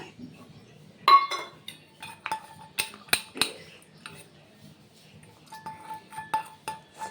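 Small bowls clink and tap as a pastry brush coats each with a little oil, with sharp scattered knocks between quieter stretches of soft handling.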